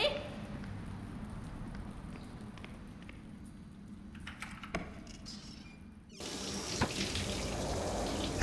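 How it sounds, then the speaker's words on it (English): Shower water running in a bathroom in a video game: a soft, steady hiss that continues for several seconds, then swells abruptly louder near the end, with faint thumps under it. "you hear running water coming from the bathroom. Someone is taking a shower"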